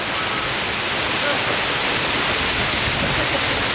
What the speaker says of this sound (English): Came through the waterfall.